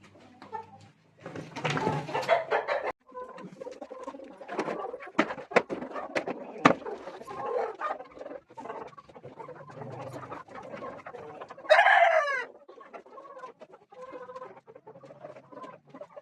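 Desi hens on a farm cluck and squawk in bursts during egg collection, with one louder, drawn-out call standing out, over a busy, close-range background of scratching and rustling.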